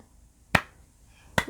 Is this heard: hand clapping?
yes